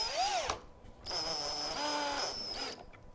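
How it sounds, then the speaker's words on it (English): A power drill drives screws into a wooden hinge while a storage locker is assembled. Two whirring bursts are heard, a short one and then a longer steady one, close and alone. "So as we go ahead and put in the screws, you just want to make sure that you snug them up nice and easy"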